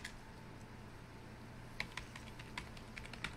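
Computer keyboard keys tapped in a short burst of typing, entering a web search; quick irregular clicks close by over a faint steady hum, with no voices.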